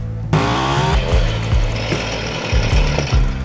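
Two Puch X30 two-speed mopeds with Z50 engines, on a mountain trip across the Swiss Alps, run up close with a buzzy, raspy two-stroke note that revs up and drops repeatedly in quick bursts.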